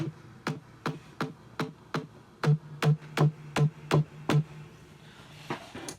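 Punchy synth bass with a sharp attack hits in short, evenly spaced notes through a dance track's break section, alongside regular percussive clicks, moderately loud with no voices.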